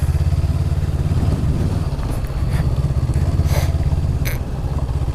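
A 2019 Honda CB500X motorcycle ridden off-road on 50/50 tires, its engine a steady, loud, close drone with a rumbling low tone and no pauses.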